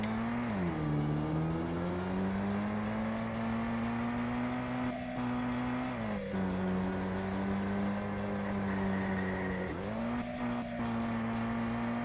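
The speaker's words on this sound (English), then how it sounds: "There shouldn't be any cars like that loud." A loud car engine in the VRChat virtual world revs steadily and continuously, its pitch rising and dipping in several surges, close and alone with no talking.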